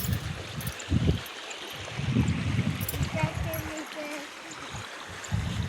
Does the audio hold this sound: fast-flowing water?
yes